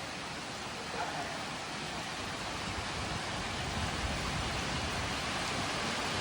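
Steady rain falls on a flooded road, a dense, even hiss that continues without a break at moderate distance.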